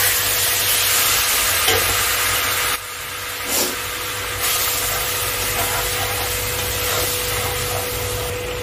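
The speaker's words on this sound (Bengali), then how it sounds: "এবার আমি একটু গরম জল দিয়ে দিচ্ছি।" Hot water poured into a pan of well-fried masala for an egg malai curry, giving a steady loud sizzle and hiss with scraping stir strokes, a brief drop in the middle, then continued bubbling sizzle.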